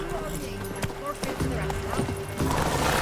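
Hooves of Geralt's horse Roach in The Witcher 3: Wild Hunt clop in a steady walking rhythm on the ground, close and moderately loud. Talk and a village's background sounds run beneath the hoofbeats.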